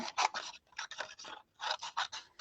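Scissors snip through stamped paper blossom strips in quick, crisp bursts of cutting, about a dozen close rasping snips in two runs with a short pause between.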